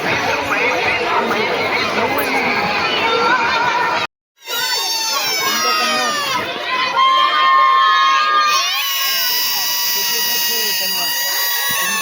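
Busy crowd at a village jatra fair in Nandgaon, Maharashtra, with dense chatter, children shouting and cheering close by, a brief dropout, then a stretch of long rising and falling whistles or squeals over the ongoing hubbub.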